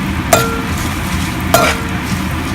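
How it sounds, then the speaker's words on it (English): Whole spices frying in a pan for Hyderabadi vegetable pulao, with a steady close sizzle and two sharp clinks of a spoon against the pan. "we'll add all our spices. Let them fry nicely"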